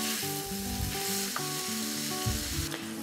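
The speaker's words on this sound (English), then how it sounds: "I need to cook this until the meat browns on all surfaces" Minced meat fries and browns in a pan, a loud close sizzle running continuously while a low hum of varying pitch sits beneath it and occasional scraping knocks break through, with no voices.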